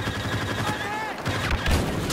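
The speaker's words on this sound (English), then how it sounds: "Oh crap, that's a grenade." Grenade explosion and gunfire in the Star Wars: Battlefront video game, a loud continuous burst of blasts and rapid shots filling the moment, with booming low thuds rising near the end.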